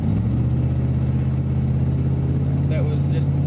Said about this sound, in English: Had a car doing like 80 miles an hour down this road.